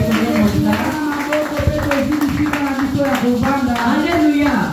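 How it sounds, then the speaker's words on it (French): A French-speaking church congregation claps rhythmically for the Lord, the quick hand strikes running steadily beneath voices that sing or call out over them. "Nous applaudissons pour le Seigneur comme nous le faisons."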